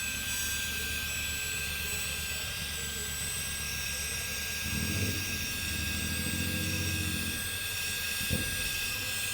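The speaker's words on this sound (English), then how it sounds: "you see me blowing with that heat gun" A heat gun blows hot air over wet resin in a craft mold, giving a steady, fairly loud whooshing whine with a thin high tone, plus a few brief bumps of handling noise toward the end.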